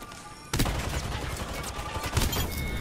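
Shotgun blasts and a rapid burst of gunfire in a ballistic video game slingshot challenge, starting abruptly after a quiet moment and continuing as a dense, loud volley with a sharp crack near the end.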